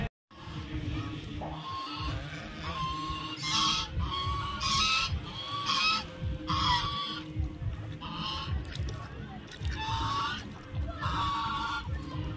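Ducks at the Gomti temple pond in Pilibhit being fed prasad, repeated loud quacking bursts in an irregular series close by, over a low outdoor rumble.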